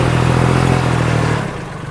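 The engine of a rotary tiller hums loudly and steadily up close, then cuts out abruptly about two-thirds of the way through, leaving only faint background noise.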